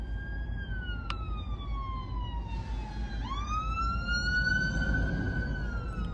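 A fire engine siren wails from a passing emergency vehicle heard from inside a car on the road, loud and steady with long gliding tones that dip and then sweep back up, over a low engine rumble.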